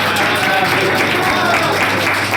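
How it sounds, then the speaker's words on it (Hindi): Dense, steady applause from an audience at a motivational meeting, loud and continuous throughout with no pauses or distinct individual claps standing out. "सबसे पहले आप लोग जोरदार ताली बजाइए"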